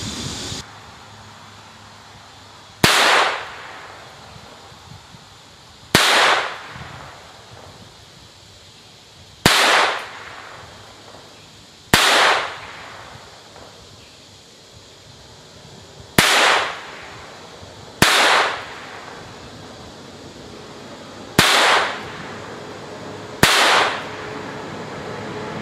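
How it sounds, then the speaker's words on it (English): An ATI GSG Firefly pistol, 2018 model, fires ten rounds at a target outdoors: loud, sharp single reports spaced a few seconds apart, each followed by a short decaying echo, with no talking between shots. "that was the first 10 rounds ever fired out of this gun"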